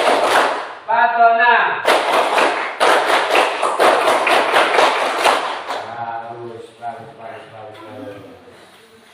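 Children in a classroom lesson clap in rhythmic bursts while chanting together, the claps and voices loud and close, before a single voice continues after the clapping stops.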